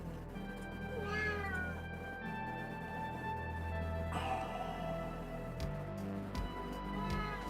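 A cat meows indoors several times at close range, drawn-out and fairly loud cries over a steady background hum, with no talking.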